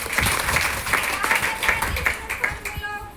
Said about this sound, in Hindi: इसके लिए जोरदार ताली होनी चाहिए।